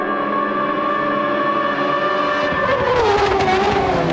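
Spec III race cars run side by side in the Gran Turismo 7 video game, engines howling loud and steady with layered whining tones that shift in pitch as they rev near the end, with no talk.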